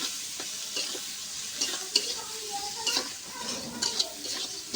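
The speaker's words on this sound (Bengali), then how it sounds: "এবার চচ্চড়িটা ভালো করে মাখায় নেব এর সাথে," Spiced fish chorchori being mixed and stirred in a pan of hot oil, giving a soft continuous sizzle with scattered scraping clicks of a spoon, fairly close and without talk.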